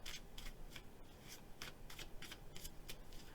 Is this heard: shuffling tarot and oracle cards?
yes